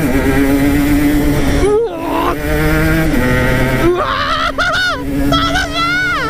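An Aprilia RS125 two-stroke motorcycle accelerates hard along a mountain pass road, its high, buzzing engine note climbing through the gears with sharp pitch drops at each shift, loud and close.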